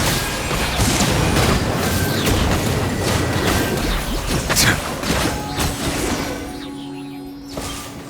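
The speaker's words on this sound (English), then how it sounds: "Glad it wasn't damaged in the explosions." Explosions and combat effects from the Genshin Impact game, dense crashing booms and impacts layered over a rumbling background that thins out toward the end, with a sustained tone emerging.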